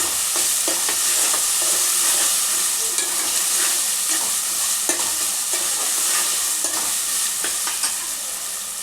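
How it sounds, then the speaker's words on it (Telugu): Ginger garlic paste fries in a pan for a Telangana-style chicken curry, giving a steady loud sizzle broken by repeated scrapes and clinks as it is stirred, close by with no voices. "ఈ అల్లం వెల్లుల్లి పేస్ట్ ఇది కొంచెం మంచి స్మెల్ పోయేంత వరకు మంచి ఫ్రై కావాలి"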